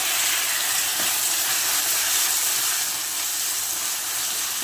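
Two medium-size tomatoes hit hot oil with curry leaves in a pan while cooking a potato kurma, giving a loud, steady broadband sizzle and hiss that holds throughout without talk.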